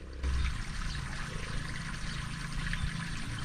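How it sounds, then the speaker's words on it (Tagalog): Stream of water flowing at a farm in Quezon Province, a steady, moderately loud rushing wash with no talk over it. "maririnig nyo yung agos ng tubig"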